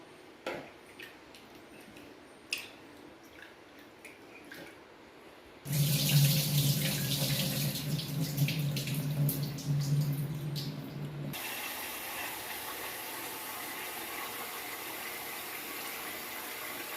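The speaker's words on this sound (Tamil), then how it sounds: "ஃபஸ்ட்டு தண்ணியை கீழே ஊற்றிக்கிடுவோம்" Running water from an indoor kitchen tap gushes steadily and fairly loudly for several seconds, then settles into a quieter continuous flow, with light clinks before it and no talking.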